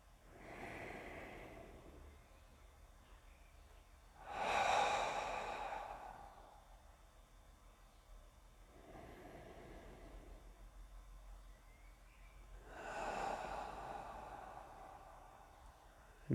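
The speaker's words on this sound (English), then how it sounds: "start by taking a deep breath into your belly and into your chest" Slow, deep breathing during a yoga class: a long exhale hiss around five seconds in and another near thirteen, with quieter breaths between, close and soft, no talking.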